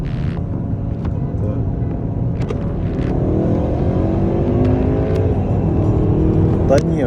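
A Volkswagen Jetta and a BMW 328 Stage 1 launch in a drag race as loud engine drone and rising revs build steadily, with people talking over the continuous engine noise.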